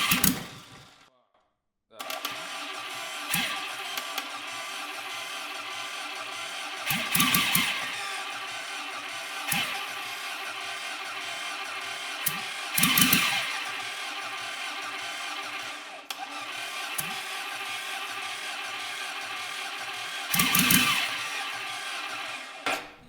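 A 1957 Mini two-cylinder prototype engine runs without a carburettor, keeping up a steady close mechanical chatter with rhythmic pulses and a few louder surges, after a brief drop near the start; people talk over it now and then.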